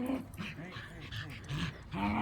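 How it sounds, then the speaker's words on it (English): Puppies whimper and yip softly in short, high, whining calls at close range, with a person speaking over them. "Puppy dogs."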